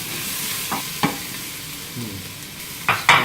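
Onions and garlic frying in a pan, a soft steady sizzle broken by a few sharp stirring scrapes and clacks of a utensil against the pan, no talk.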